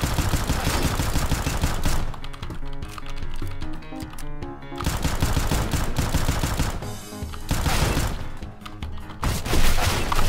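Gunfire from the video game CS:GO crackles in dense, rapid automatic bursts, loud and near, broken by short pauses and mixed with keyboard clatter.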